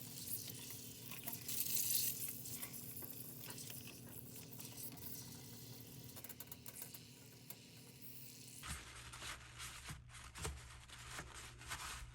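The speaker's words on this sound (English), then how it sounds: "I'm gonna switch gears and fry this up and use it like a tostado shell" Pasta frying in a pan to crisp into a tostada shell, a steady close sizzle and patter of hot oil that shifts partway through to a denser, more even crackle with some stirring noise.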